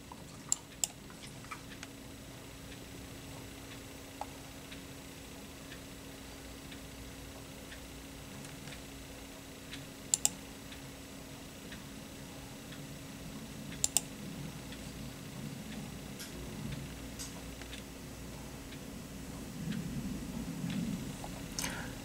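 Computer mouse clicks sound now and then over a quiet room hum, faint and sparse, with a couple of sharper double clicks spread across the stretch.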